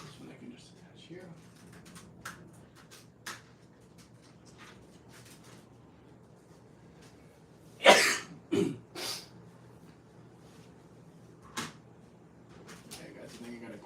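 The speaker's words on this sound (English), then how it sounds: "now I'm coughing and sneezing" A person with a cold coughs and sneezes during a quiet indoor stream, giving a few sharp bursts close to the microphone amid faint background noise and small clicks.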